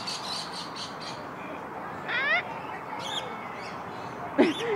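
A pet bird gives a few short chirps and squawks, with a sharper call near the end, under nearby talk and a steady background hiss.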